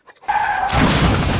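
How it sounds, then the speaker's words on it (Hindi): A car crashing into something: a sudden loud shattering impact breaks in after a near-silent start, followed by sustained noisy crunching and rumble. "गाड़ी ठोक दिया।"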